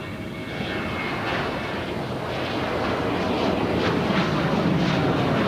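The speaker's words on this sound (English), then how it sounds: "Next takeoff here on the south side. United Airlines flights 1153 heading to Houston, Texas, the 737-900 ER." United Airlines Boeing 737-900ER taking off from the south side of LAX: a steady, loud jet engine roar that swells slightly as the aircraft accelerates, with no talk over it.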